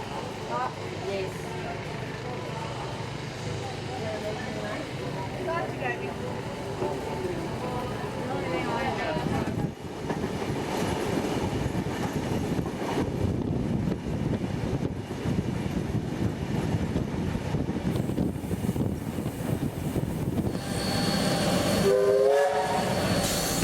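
A steam locomotive, NSW 3526, rumbles steadily as it pulls away from Thirlmere station, its horn sounding near the end, with voices talking over parts of it.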